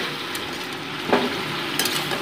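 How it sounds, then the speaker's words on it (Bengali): Spinach with salt and turmeric being stirred in a hot pan, a steady close sizzle of frying with a single soft scrape of the utensil midway. "নুন হলুদ দিয়েছে আমি সবজির সাথে মিশিয়ে নিচ্ছি।"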